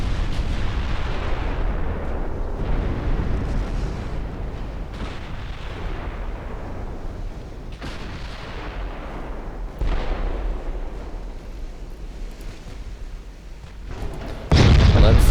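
Heavy naval guns of 14.9-inch calibre fire in the naval warfare game Ultimate Admiral Dreadnoughts. Deep booms roll over one another through a dense, continuous battle rumble, and a louder blast comes right at the end.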